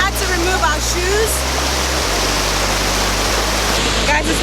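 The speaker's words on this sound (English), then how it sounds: "So we're passing through the waterfall." Rushing water of Aruu Falls in Uganda, a steady broadband roar heard up close while wading through the falls, with a low hum and faint voices beneath.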